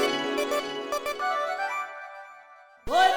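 A phone ringtone plays as a bright melodic tune with stacked tones, fading out before a second burst of ringing starts near the end, with no talk over it.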